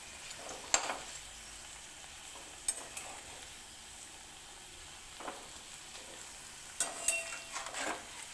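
Thin potato bhaji fritters frying in oil over a low gas flame give a soft, steady sizzle, with a few sharp stirring clicks and scrapes near the start and end.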